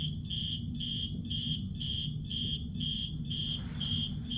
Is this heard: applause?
no